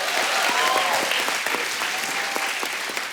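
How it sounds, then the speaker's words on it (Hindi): A studio audience bursts into loud, dense applause with a few shouts rising over the clapping, holding steady and easing only slightly by the end. "जोरदार ताली पहले ही।"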